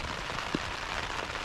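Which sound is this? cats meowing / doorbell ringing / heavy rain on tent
heavy rain on tent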